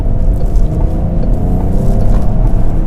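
A Peugeot 308 GT engine hums steadily while driving in sport mode at half throttle, a close, loud low drone with a faint rising whine underneath.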